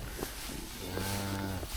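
A single cow moos in a cattle barn, a drawn-out low call close by with no talk.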